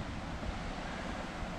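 Water rushes and tumbles steadily over the stepped spillway of an old stone dam at the foot of Glenisla, Loch Shandra, a close, loud and continuous broadband roar with no break or talk.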